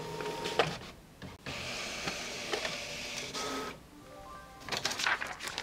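A wireless printer runs a page sent from an Android KitKat phone, with whirring feed motors, mechanical clicks and shuttling print-head passes that stop and start in bursts, captured fairly close with no talking.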